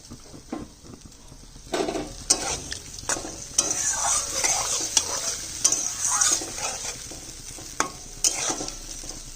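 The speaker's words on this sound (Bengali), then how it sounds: "পনির দিয়ে আর 2 মিনিট রান্না করব। আর দিয়ে দিচ্ছি সামান্য জল।" Paneer cooks in a pan with a little water for a pure vegetarian dish made without onion or garlic. A steady sizzle runs throughout, broken by repeated scraping stirs and light clinks of a spoon against the pan.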